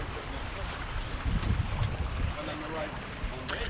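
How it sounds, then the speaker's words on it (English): An Amel 60 sailing yacht under way in about 6 to 7 knots of breeze, with steady wind rush across the microphone and water washing along the hull, faint talk mixed in. "And we are sailing along"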